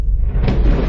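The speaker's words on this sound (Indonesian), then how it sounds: "Orang banyak yang berdiri di situ dan mendengarkannya berkata bahwa itu bunyi guntur." A short, loud, deep rumbling thunder sound effect plays during an Indonesian Bible reading of John 12, rolling low and continuous for about a second with no voice over it.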